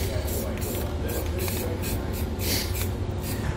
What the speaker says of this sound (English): I'm going to take some Rust-Oleum clear coat.